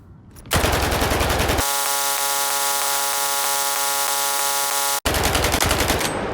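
Automatic weapon fire in the video game S.T.A.L.K.E.R. 2 rattles out in long, continuous bursts, first a dense roaring stream and then a steady buzzing rapid cadence, broken by a brief gap before firing resumes, loud and with no voices.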